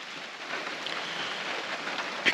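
Steady rain falls through a forest during a moose hunt, a dense, even hiss of drops on leaves and ground holding a constant level, with a few louder close patters near the end.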